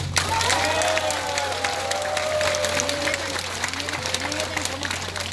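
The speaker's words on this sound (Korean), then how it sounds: "힘차게 감사의 박수를 좀 부탁드립니다" Loud, steady applause from a crowd at the opening ceremony of a Nonghyup Hanaro Mart supermarket in Gumi, South Korea, welcoming the visiting chairman of the national agricultural cooperative federation, with a few voices and cheers rising over the clapping and a low electrical hum beneath.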